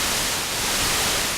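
Pink noise test signal with the extreme highs suppressed, a steady, even broadband hiss held at constant loudness with no other sounds.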